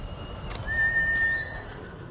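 A horse in the video game Ghost of Tsushima gives a single short, fairly clear whinny with a thin, high, wavering tone over a low background rumble, heard alone without talking.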